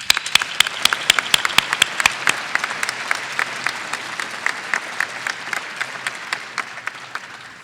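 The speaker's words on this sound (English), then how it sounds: "Please join me in a round of applause" Audience applause at a scientific society's plenary awards session, with sharp individual claps standing out rhythmically over a crowd wash that gradually thins and fades.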